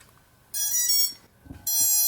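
Two bursts of high electronic beeping from a drone's motors after a crash, BLHeli beacon mode, the first about a second long, then a short pause with faint clicks before the second burst starts.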